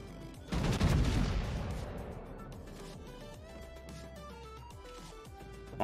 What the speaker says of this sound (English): I want this salvo on the Thunderer.